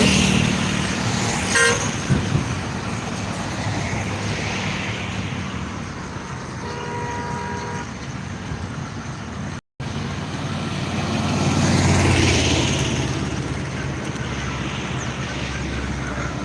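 Cars and trucks of a political activists' convoy pass along a road, heading toward Mumbai, with steady loud traffic rumble and several horn toots near the start, a brief dropout midway, then another swell of passing vehicles.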